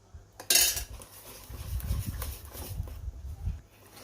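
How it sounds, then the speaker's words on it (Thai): A spoon scrapes and clinks steadily against a pot while a thick Thai fish curry mixture for ho mok, made with snakehead fish, eggs and coconut milk, is stirred; the sound is close and fairly quiet, with one sharper clank near the start. "กวนไปเรื่อยๆ นะคะ จนหนืดค่ะ"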